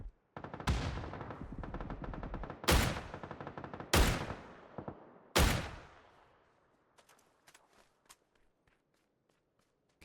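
Four loud, sharp Dragunov rifle shots ring out in PUBG, spaced about a second or more apart, each with a ringing tail. Then faint footsteps and small clicks follow as it settles to near quiet.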